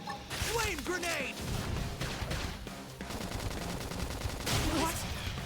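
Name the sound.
gunfire in video game Xenoblade Chronicles X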